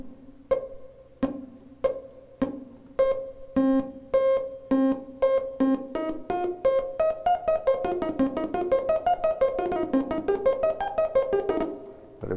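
A synthesizer arpeggio starts with slow, evenly spaced notes, then speeds up into a quicker rising and falling pattern, played alone and clear.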